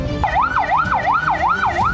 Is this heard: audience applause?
no